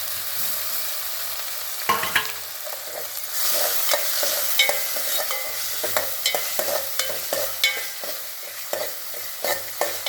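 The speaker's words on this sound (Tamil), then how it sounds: "இப்போ இந்த தக்காளியை தக்காளியையும் நல்லா வதக்கணும்" Tomatoes sautéing with onion and green chilli for tomato chutney, a close sizzle broken by repeated sharp scrapes and clacks of a spoon stirring the pan.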